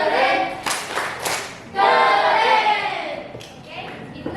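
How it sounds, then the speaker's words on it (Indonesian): A grade eight classroom performs the rhythmic 'tepuk keren' group clap for a presenting group, with sharp bursts of claps alternating with voices chanting along in a loud, close room. "Oke, tepuk keren untuk kelompok ini."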